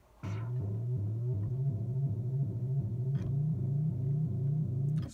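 A Moog Sub37 synthesizer plays a low, buzzy repeating pattern, pulsing in a quick steady rhythm with slight pitch steps. It sounds loud and close, with no talking.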